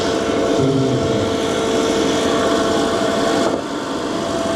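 An excavator engine running steadily at full RPM, a loud continuous droning roar with a brief dip near the end and no talk over it.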